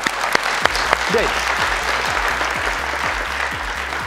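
A studio audience at a Persian Family Feud-style game show applauds the two team captains, with sustained, loud, close clapping while a host's voice briefly speaks over it.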